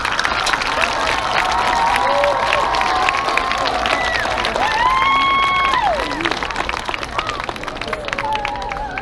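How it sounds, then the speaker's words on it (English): Students at a senior day celebration receive lively applause mixed with cheering and crowd chatter, hearty clapping throughout with whoops and raised voices rising over it. "Once again, a big round of applause for all these students."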